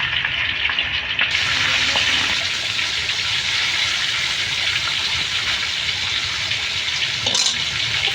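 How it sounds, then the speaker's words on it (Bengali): Fish frying in a pan of oil in a village kitchen, a constant dense hiss and crackle that holds level for the whole stretch, close by and with no talking. "আজকে মাছ আগে ভেজে নেবো"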